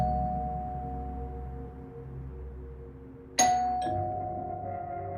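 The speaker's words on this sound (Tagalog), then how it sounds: "Napabuntong hininga ako nung marinig kong may nag-doorbell sa unit ko" A doorbell chimes once with a bright two-tone ding-dong over a steady low hum, fairly faint and indoors.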